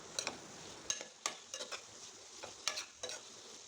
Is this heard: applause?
no